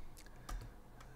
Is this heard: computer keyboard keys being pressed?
yes